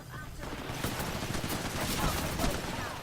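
Rapid bursts of video game gunfire in a ranked shooter match crackle on and off at moderate distance, a dense fusillade with scattered louder shots, mixed with faint background game noise.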